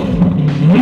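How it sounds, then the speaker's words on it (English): A Lamborghini Aventador S Roadster's V12 engine catches and revs in a short, loud, close burst with a deep rising growl, and no one speaks. "This is where you turn on your insane V12 engine."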